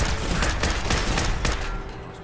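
Rapid bursts of gunfire in the Fallout 4 video game, loud and dense, sharp repeated shots over a continuous rumble of combat noise, with no talking.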